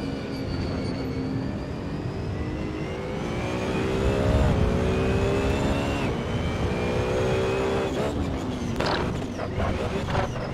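A BMW Z4 GT3 race car laps Zandvoort in a racing video game, its engine droning steadily with rising and falling pitch as it shifts through gears, continuous and prominent.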